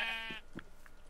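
A sheep bleats once in the Minecraft video game, a short wavering nasal cry up close, followed by a few faint soft clicks and game noises.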